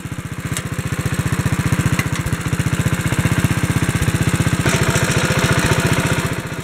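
Single-cylinder engine of a 1957 Wheel Horse RJ-35 lawn tractor with a variable speed pulley, running steadily close by with a loud, even putter and slight swells in pace, with no talk.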